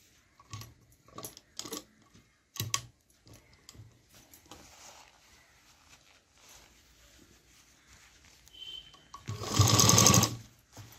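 A domestic sewing machine stitches fabric for a tiffin bag in short start-stop bursts, with pauses as the needle stays down at a corner and the cloth is turned, then a longer loud run of rapid stitching near the end.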